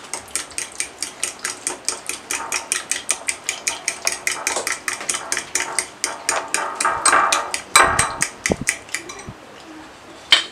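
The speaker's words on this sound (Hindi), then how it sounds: "अब दही को सबसे पहले फेंटें।" Yogurt whisked briskly in a bowl, a fast regular run of sharp clicking strokes close up, slowing and breaking into a few bumps near the end.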